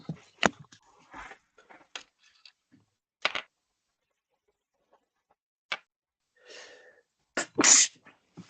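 A single sharp sneeze bursts out near the end, close and loud, after a quiet stretch broken by scattered short clicks and breaths.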